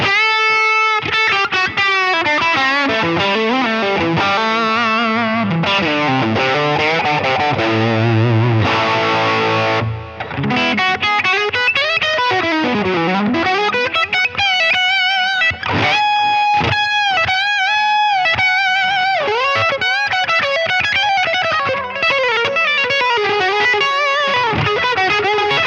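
Electric guitar run through a Line 6 Helix with Cosmos Echo delay set to low feedback and light mix, playing distorted, sustained chords and melodic lines with audible echo repeats, loud and continuous for about twenty-five seconds.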